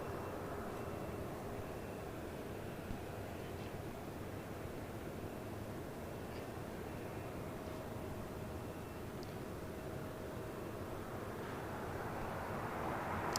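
An airliner taxiing at LAX, a faint distant broadband engine rush and hiss that holds steady throughout, with no clear rise or fall.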